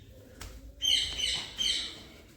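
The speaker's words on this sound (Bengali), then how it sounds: "এখানে আমাদের দুটো পায়রার বাচ্চা হয়েছে পায়রার মা" Pigeon chicks with their mother pigeon at home make a few soft, high chirping calls in two short bursts close by, with no talking.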